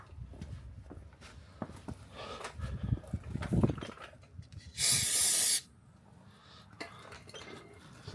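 Spray cleaner hisses in one loud, steady burst of about a second, degreasing bolt threads before a cab mount bushing install, with faint clinks and shop handling noise around it.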